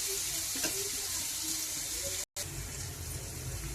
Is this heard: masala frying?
yes